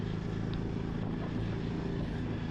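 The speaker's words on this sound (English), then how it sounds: "Love the tone of the engine." A 2025 Triumph Scrambler 400 XC motorcycle engine runs at a steady, loud, close drone with a dense low rumble. The sound continues without a break and no voices are heard.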